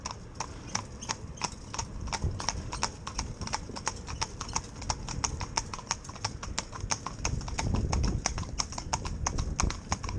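A pair of horses driven in tandem clip-clop steadily on a hard surface, a brisk even rhythm of hoofbeats close by and fairly loud throughout, with faint background rumble.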